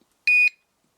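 A Volantex Super Cub 500 761-3 RC trainer plane's receiver gives a single short, clear electronic beep as it binds to the transmitter, close and alone in an otherwise quiet moment.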